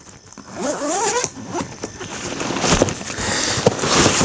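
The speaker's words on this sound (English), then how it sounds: "You simply unzip your bag." A zipper is pulled open on a Shimoda carry-on roller bag, a close, rasping run of zipper teeth that slows, pauses, then continues in longer scraping strokes.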